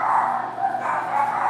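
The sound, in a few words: dogs barking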